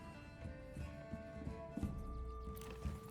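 Horse hooves clip-clop at a walking pace in the medieval village-building game Manor Lords, a trading-post horse moving amid faint background ambience and a few brighter accents, fairly quiet and steady.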